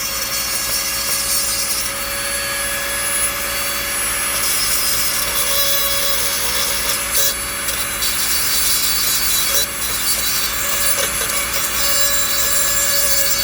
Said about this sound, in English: I can just get enough of that rust off there to get a little bit of metal.